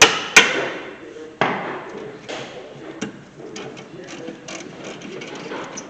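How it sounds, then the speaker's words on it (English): Hammer blows strike a brake caliper bracket on a 2013 Hyundai Santa Fe: a few sharp metallic knocks close by, the first two loudest, then lighter taps and faint mechanical rattling. "Use a hammer, not your hand."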